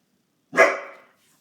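A pet dog named Mac gives a single sharp, loud bark close by in a quiet home room, with silence before and after.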